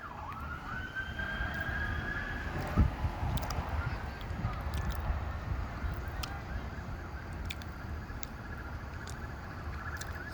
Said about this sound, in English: You can hear the police are coming.